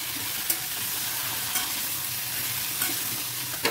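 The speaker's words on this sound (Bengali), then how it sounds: "এই যে আস্তে আস্তে সব সবজি দিচ্ছি।" Vegetables for jhol shukto hit hot oil in a pan, giving a steady close sizzle with a few sharp clinks of stirring spread through the clip and no talk.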